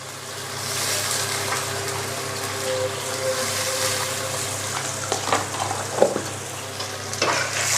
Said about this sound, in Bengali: একটু নাড়া দিয়ে নেব।